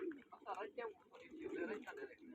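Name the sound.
pigeons cooing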